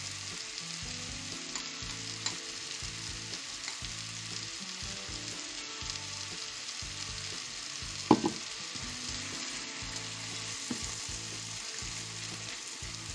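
A pan sizzles and fries steadily for beef Wellington after cream goes in, a continuous close crackle with irregular stirring scrapes and one sharper clank partway through.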